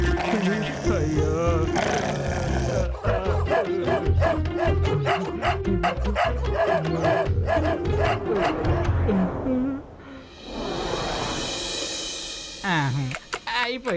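Cartoon dogs bark in rapid, loud volleys in an animated episode, tangled with shouting voices and music, then a brief rising whistle-like whoosh near the end.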